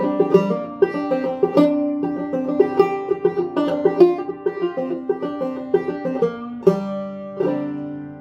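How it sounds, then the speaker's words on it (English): A five-string banjo picked clawhammer style in an old-time Appalachian manner, its bright plucked notes and steady rolling rhythm played alone with no talking. "A banjo like this is often thought of as clawhammer banjo"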